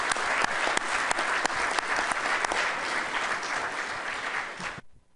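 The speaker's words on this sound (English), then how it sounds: "I'd give them a round of applause." Steady applause from a meeting crowd at a fisheries board session, dense and continuous for about five seconds with a few sharper claps standing out, then cutting off abruptly.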